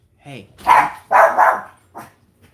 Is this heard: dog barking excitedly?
yes